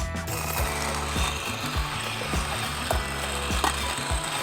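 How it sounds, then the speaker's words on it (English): A Femobook A4Z hand coffee grinder fitted with a CP6 espresso burr grinds beans in a close, continuous gritty crunching with a regular rhythmic thump of each crank turn, alone with no talk. "we're using the new Femobook A4Z, which have the CP6, Espresso CP6 burr inside"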